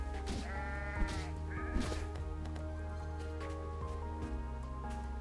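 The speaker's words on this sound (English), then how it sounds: "Sheep." Sheep in the video game Holoearth bleat repeatedly, several distinct wavering cries over a quiet, steady game background.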